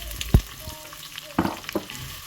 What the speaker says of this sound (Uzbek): Qozonga piyozni solamiz va tillarang holatga kelguncha qovurib olamiz.